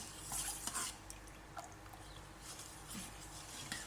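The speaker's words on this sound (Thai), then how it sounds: "คนน้ำตาลเราจะละลายแล้วเนาะ" Sugar being stirred into coconut milk in a pot, a soft scraping and clinking of a spoon against the pot in quiet, irregular strokes, close and faint.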